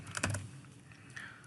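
Faint keystrokes on a computer keyboard as an Excel formula is typed, a brief quiet patter of a few taps.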